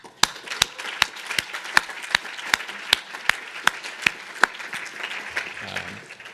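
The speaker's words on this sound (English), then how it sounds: "let us all give, the UK Biobank staff a tremendous round of applause" Audience clapping in a lecture setting for UK Biobank staff, with sharp individual claps standing out over a steady wash of applause that carries on throughout.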